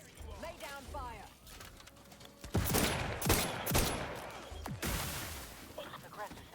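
Gunfire in the video game Outer Worlds 2: several sharp, loud shots cluster in the middle of the clip amid busy game sounds, with fainter clatter before and after.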